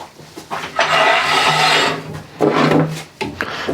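A woodturning lathe trues up a tenon on a wooden lid, the tool scraping the spinning wood in two rasping passes over a low motor hum, close and loud with brief pauses between cuts.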